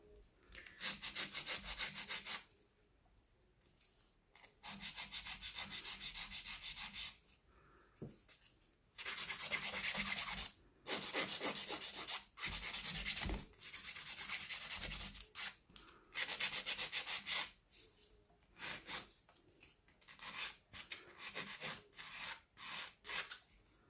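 A nail file rasping across jelly nails in repeated short bursts of scratchy rubbing, with brief pauses between strokes; close and fairly quiet, with no talk.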